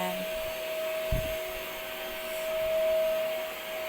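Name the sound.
Bossman Kaden K2 cordless vacuum cleaner running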